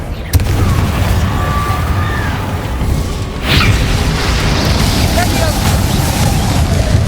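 In Hogwarts Legacy, fiery explosions from the Confringo spell burst in combat with a sharp boom near the start and another near the middle, over a continuous rumbling game soundscape.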